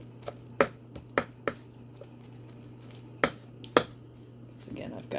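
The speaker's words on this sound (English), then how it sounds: "You can chop your herbs in a bunch of different ways. Sometimes I use scissors. Sometimes I use my knife like this." A sharp knife chopping a bunch of fresh herbs on a board for compound butter: a handful of crisp, separate knocks at uneven intervals, close and fairly quiet, with a low hum beneath.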